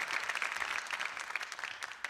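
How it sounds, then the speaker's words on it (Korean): Audience applause at an economics concert lecture, brisk dense clapping from a seated crowd, steady and fairly close throughout the short stretch. "박수로 청해 듣겠습니다"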